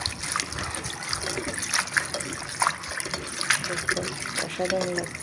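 Chopped Malabar spinach leaves are rinsed in water, with a soft continuous trickle and small splashes as the leaves are swished about, while someone speaks over the washing.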